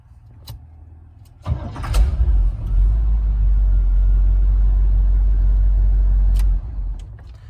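A carbureted car engine with a four-barrel carburetor and electric choke cold-starts after a brief crank, catching into a loud, steady low idle rumble that runs several seconds before settling lower near the end; no talking.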